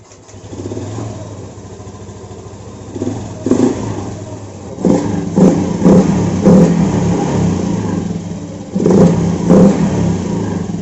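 A Honda Vario 110 FI scooter with a misfiring fault cranks and starts, then idles unevenly with repeated revving bursts, loud and close with no talk.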